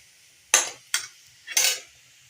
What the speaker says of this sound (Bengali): শাক ভাজা চলছে, দেখতে পাচ্ছ শাক ভাজা হচ্ছে।